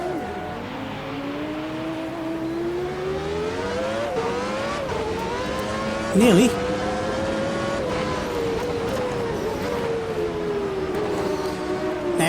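A race car in Automobilista 2 launches off the line, engine climbing through rising revs with a brief shift spike midway, loud and continuous alongside other cars, with a single short spoken word.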